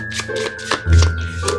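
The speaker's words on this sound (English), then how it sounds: "And one more shuffle." Quick riffling and soft slapping of a deck of cards being shuffled, a few brisk bursts close by.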